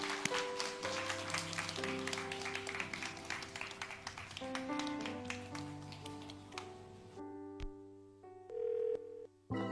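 A church congregation at a Sunday young adults' service applauding, a sustained wash of clapping under sustained organ-like tones that thins out toward the end.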